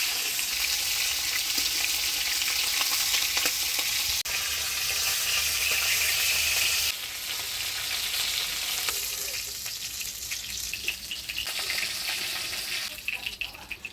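Chela fish sizzling and frying steadily in hot oil, a loud continuous crackle with occasional stirring and slight shifts in intensity, no talking.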